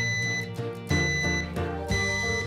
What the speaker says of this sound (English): it's a female voice with the beeping saying, emergency, there's smoke